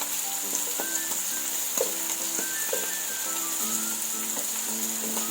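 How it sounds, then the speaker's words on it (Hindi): White parts of spring onions frying in a hot pan for a Chinese-style chicken and vegetable fried rice, giving a steady close sizzle with occasional stirring clicks and a faint tonal hum behind it. "अब ये जो ग्रीन प्याज थे उनमें से जो वाइट प्याज हैं वो मैं डाल रही हूँ।"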